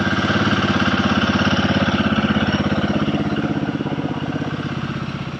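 A Royal Enfield Guerrilla 450 motorcycle engine runs close and loud at a steady idle, a throbbing, evenly pulsing single-cylinder beat that fades slightly toward the end, with no talking.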